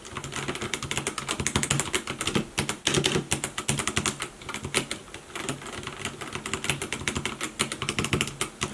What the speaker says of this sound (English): now I'm going to do the typing experience.